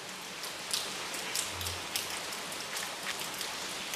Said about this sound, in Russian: Я обожаю дождь.